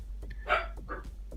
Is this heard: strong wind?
no